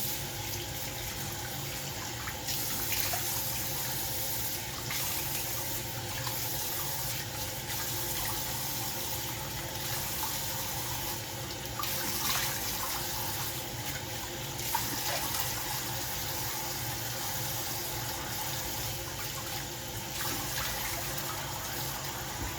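Tap water runs steadily for over twenty seconds while a face scrub with exfoliating granules is rinsed off at a bathroom sink, a close, continuous splashing hiss with small shifts in flow and no talk.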